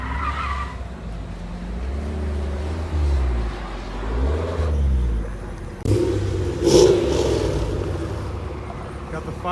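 A Pontiac Firebird V8 revs and rumbles at a car show, rising and falling in a few deep surges, then a louder burst near the end, with people talking nearby.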